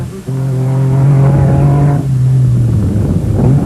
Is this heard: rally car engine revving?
yes